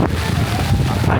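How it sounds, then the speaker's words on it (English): Strong wind roaring and buffeting the microphone in a rainy outdoor theme park, a loud, continuous rushing blast that fills the short moment. "the wind is so strong. It's destroying my umbrella"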